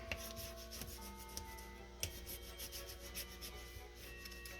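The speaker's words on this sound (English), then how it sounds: "burnish this down" A tool burnishes paper scraps down onto a Christmas card with quiet, close, continuous rubbing strokes, a soft scratchy back-and-forth friction marked by a few faint taps.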